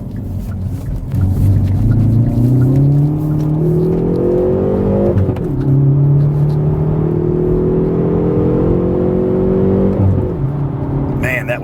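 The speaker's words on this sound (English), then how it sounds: "I'll go around this corner and accelerate kind of hard in second gear." A 2019 Hyundai Veloster N in N mode accelerates hard in second gear out of a corner, its engine note rising steadily through two long pulls with a brief shift between them, loud and close from inside the car.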